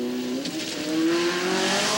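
A Datsun 510 rally car's engine revs hard and steadily while its tires spin on gravel, a continuous rising drone loud and close throughout.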